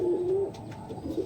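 Desi high-flyer pigeons kept at a home loft give a clear, sustained coo up close, fading midway and then rising again in a second shorter call, with no voices.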